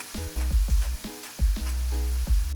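Ground beef seasoned with chili powder and cayenne sizzling in a pan, loud close frying with repeated thumps and bursts, no talking.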